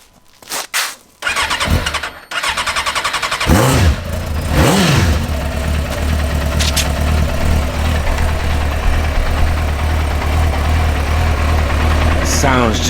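A 2001 Suzuki GSXR600 K1 sport motorcycle cranks, fires up and blips its throttle a couple of times before settling into a steady, close idle, with brief clicks and handling noises at the start and no speech.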